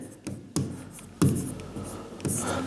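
Pen writing notes on a board or paper during a Hindi current-affairs lesson, a soft scratching broken by several sharp taps, heard up close with no talk over it.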